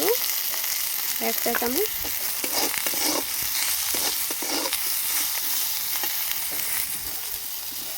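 Bitter gourd sizzles and crackles in a pan as it is stirred with salt and turmeric, a continuous close frying hiss running throughout while someone speaks over it.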